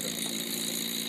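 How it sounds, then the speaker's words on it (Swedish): A small Stirling engine runs steadily, giving off an even mechanical hum with a faint, regular beat and a constant hiss, with no pauses throughout the short stretch. "det här är en Stirlingmotor"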